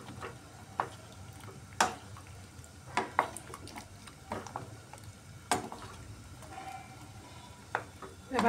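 A metal lid is set onto a pot of mung dal cooking with mixed winter vegetables, giving scattered sharp clinks and taps spread over several seconds above a quiet kitchen hum, with no voices.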